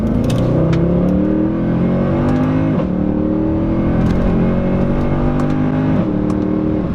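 A 2014 Mercedes C63 AMG accelerating hard, its engine note rising steadily through the gears with a few distinct upshifts, loud, close and continuous, with no talking.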